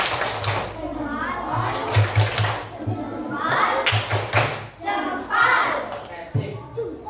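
A class of children doing the 'tepuk jempol' rhythmic clap, several bursts of group clapping with thumps and children's voices, mixed with an adult talking throughout in a classroom.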